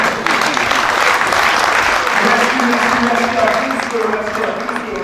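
Sustained applause from a large crowd at a World Radio Day ceremony, steady and loud throughout, with some voices faintly audible underneath.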